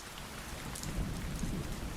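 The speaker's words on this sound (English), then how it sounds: "And it gets replaced with, rain and thunder sounds." Steady rain patters continuously with low rumbles of thunder rolling underneath. It is a soft, even ambient bed with no voices.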